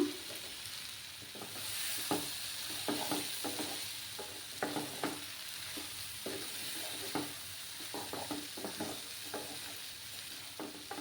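Dry fish, potato and brinjal with slit green chillies sauté in a pan, a soft steady sizzle broken by repeated scraping strokes of a spatula stirring the mix, close and fairly quiet with no talking.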